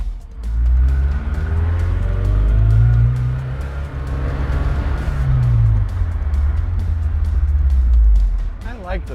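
A turbocharged 1986 Ford RS200 engine drones loudly from inside, rising and falling through gears with low rumbling revs and brief wastegate hissing bursts as it lets off.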